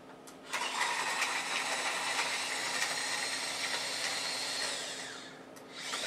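An electric food chopper whirring as it chops garlic cloves, a steady motor hum that starts abruptly, runs evenly for several seconds, then winds down.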